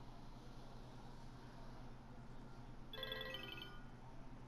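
A phone rings in Grand Theft Auto V, a short electronic trill that rises out of steady background hiss for about a second, fairly quiet.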